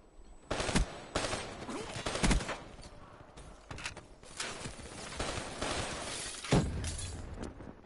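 Player gunfire in a shooter game: a run of sharp, loud cracking shots in irregular bursts, some with a shattering, breaking quality, over a dense game soundscape.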